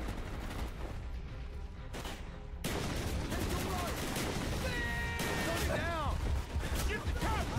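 Gunfire in Call of Duty Black Ops, with loud bursts of shots and crashing impacts over game music and effects, growing denser after a brief lull; a player talks over the action.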